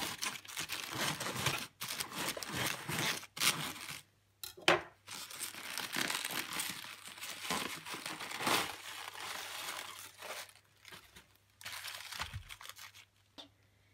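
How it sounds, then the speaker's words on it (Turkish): A knife chops through a head of cabbage for a stuffed-cabbage style dish, giving dense crunchy, crinkling cuts in quick runs with a few short pauses, close and fairly loud, with no talking. "Şimdi kesim işlemine başlıyoruz."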